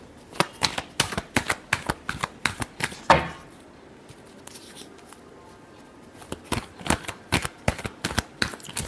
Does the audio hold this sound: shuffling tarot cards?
yes